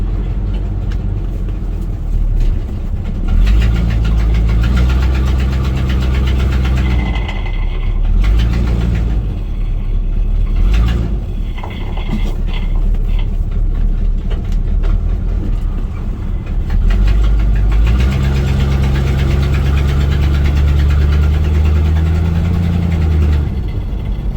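A 1971 C20 truck drives along with a heavy, rattling mid-range engine and road roar, and something dragging underneath adds a continuous scraping clatter that rises and falls over the run.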